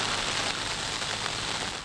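Heavy torrential rain pours down in Hyderabad, Sindh, a dense, continuous hiss that stays loud and steady throughout.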